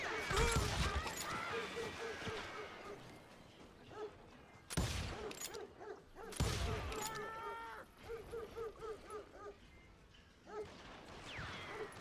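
Gunfire in the Western game Call of Juarez, a few heavy booming shots spaced seconds apart amid crashes and clatter, with voices talking throughout.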